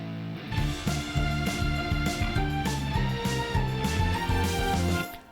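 A driven, distorted electric guitar plays a chugging rhythmic riff with sustained chords, loud and up front with no voices, for about five seconds before it cuts off.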